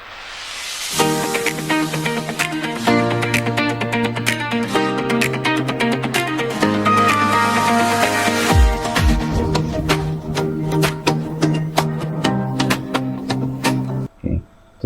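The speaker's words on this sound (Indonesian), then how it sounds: "ada yang suara musiknya aja" An instrumental-only backing track of a pop song plays on its own with steady sustained chords and a regular beat, no singing, and cuts off abruptly near the end.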